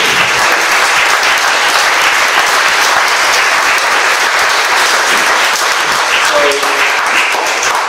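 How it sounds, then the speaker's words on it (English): An audience at a tech founders talk gives a speaker a sustained round of applause, loud and even throughout, with faint voices underneath. "So let's give a round of applause for Gaurav."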